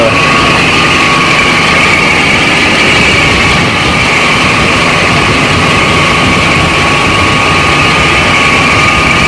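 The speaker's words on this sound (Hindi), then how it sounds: "ये कंप्रेसर है जी, जिसकी तकरीबन 8 लाख रुपये बता रहे हैं।" An industrial compressor at an ice factory runs as a loud, constant mechanical roar with a steady hum and faint whine, unbroken and close.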